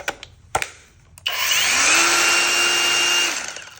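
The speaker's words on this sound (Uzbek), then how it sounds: "Endi 120 tal bolgarkasi mana." A Makita angle grinder whines up to speed and runs steadily at high pitch for a couple of seconds, then cuts off, after a few clicks and handling knocks.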